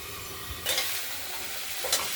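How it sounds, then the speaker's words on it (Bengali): Broccoli fries in a wok for a rui fish curry with potato and tomato, a continuous close sizzle with two brief louder scraping stirs, no voices. "আবার কড়াইয়ের ঢাকনাটি খুলে ব্রোকলিগুলোকে নাড়াচাড়া দিচ্ছি।"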